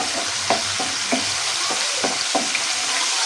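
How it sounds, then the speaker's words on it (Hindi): Ginger garlic paste roasting in about half a cup of hot oil while being stirred, for achar gosht, a steady close sizzle broken by regular spoon scrapes roughly every half second. "ऑयल के साथ डालेंगे अदरक लहसुन का पेस्ट को यहाँ करेंगे रोस्ट"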